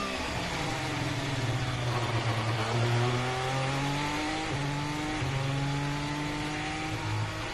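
A Ferrari SF21 Formula 1 car sounds down the main straight at a Bahrain test, its high engine note climbing in rising sweeps through upshifts, loud and continuous, with a misfiring engine.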